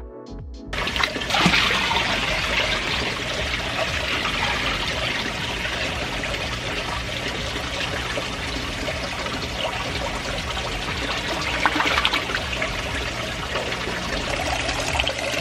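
Water pours and splashes continuously as an Oscar fish is moved into a 1,000-gallon pond, a loud, close, steady rush that lasts throughout with no talk.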